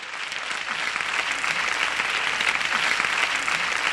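A TV chat show studio audience breaks into applause, dense, even clapping that builds slightly and holds for several seconds without talk.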